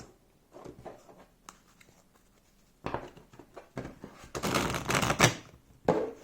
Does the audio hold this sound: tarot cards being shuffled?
yes